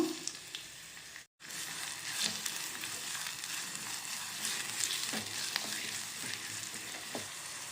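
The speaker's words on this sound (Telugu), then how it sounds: "ఆయిల్ హీట్ అయిందండి ఇప్పుడు ఉల్లిపాయ వేసుకుని ఫ్రై చేసుకుందాం" Chopped onion fries in hot oil in a pan, making a steady, dense sizzle that breaks off for a moment near the start and then carries on evenly, with no voices.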